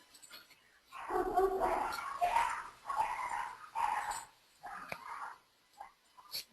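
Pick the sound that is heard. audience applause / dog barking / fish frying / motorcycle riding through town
dog barking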